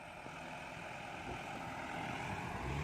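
An Isuzu 270 dump truck climbs up out of an earth pit, its engine a steady, distant low drone that builds slightly toward the end.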